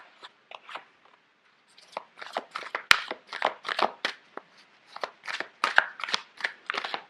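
Large tarot cards shuffled close up, giving a series of sharp papery riffles and flicks in quick uneven bursts after a brief pause, with one loud snap midway.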